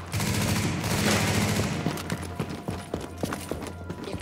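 Gunfire erupts in The Division, starting with a sustained heavy burst and then breaking into scattered sharp single shots and short volleys at irregular intervals.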